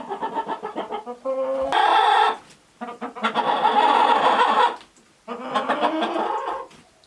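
Chickens cluck and squawk in a coop on a winter farmhouse morning, a run of rhythmic clucks followed by louder drawn-out calls, close and clear with no talk.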